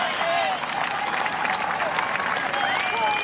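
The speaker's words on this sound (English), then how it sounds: "large crowd giving an ovation well deserved for Chun and Lexi Thompson" Large gallery at the final round of the LPGA Championship gives a loud, sustained ovation for golfers In Gee Chun and Lexi Thompson, dense clapping with cheers and whistles running throughout.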